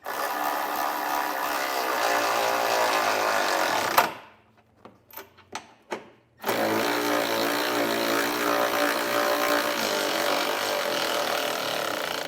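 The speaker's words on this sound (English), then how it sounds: "I'm going to come back with a 17 millimeter socket now and snug all of our hardware down." A 17 mm socket ratchets trailer hitch bolts snug on a 2024 Kia Niro PHEV, heard as a steady mechanical whir and buzz that breaks off for a few short clicks before resuming, close and continuous.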